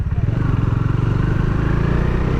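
A motorcycle in third gear runs close by at a steady, throbbing idle-to-cruise pace, its low pulsing exhaust dominating throughout.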